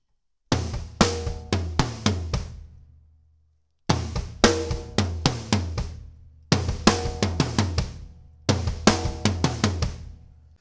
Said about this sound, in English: if I bump up the sound of the drums, it's gonna sound a bit like this